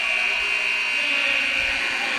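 A loud, steady electronic quarter-ending buzzer at a high school basketball game drones continuously without a break.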